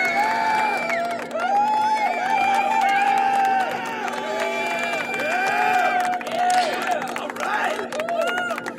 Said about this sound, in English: I'm glad to see that I have a crowd